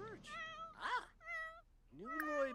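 A cat in The Sims 4 video game meows several times in a row, short clear tonal cries with brief gaps between them, close and alone with no talk.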